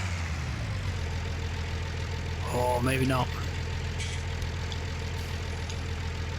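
A tractor engine in the video game Farming Simulator 19 hums in a steady idle throughout, while a voice speaks briefly over it partway through.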